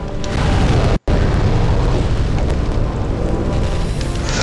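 A big explosion from the Flamelurker boss fight in Demon's Souls, a loud sustained roaring blast cut by a split-second dropout near the start, then a rumbling fiery wash continuing to the end.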